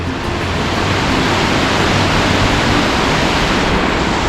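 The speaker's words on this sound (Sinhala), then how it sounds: "ඉතින් ඒ එන ගමන් රහතුන්ගොඩ තේවා හැට පාලම අසල තියෙන මේ දුංගොල්ල ඇල්ල." Waterfall on the Dunhinda side near the Rahathungoda tea estate bridge, a loud, dense, steady roar of falling water filling the scene without pause and with no voices.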